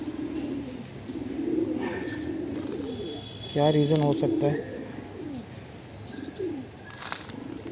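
Pigeons give soft, intermittent coos at close range as a male stays beside his dead partner, while a person speaks quietly over them.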